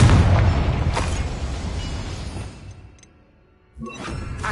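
A Confringo fire spell explodes in the Hogwarts Legacy video game, a loud rumbling blast that fades out over a couple of seconds before a second sharp burst.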